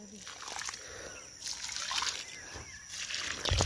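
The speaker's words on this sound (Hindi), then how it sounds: "देखिए दोस्तों किस तरह से पानी दे रहे हैं" Water poured from a mug splashes and trickles onto a rice paddy field in a few short pours, heard close and over someone talking.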